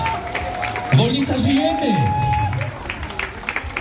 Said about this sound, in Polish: Dajcie, dajcie, dajcie brawa!